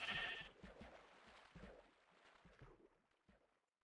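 Sheep bleating in the Minecraft video game, a bright cry at the very start followed by softer, fading sounds through the rest of the short stretch, fairly quiet overall.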